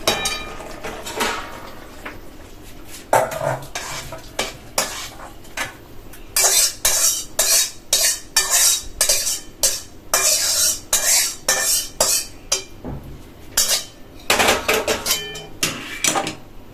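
Papad curry is scraped and poured from a cooking pan, with repeated metallic scrapes and clinks of a spoon against the pan in quick rhythmic strokes, close and fairly loud over a faint background hiss.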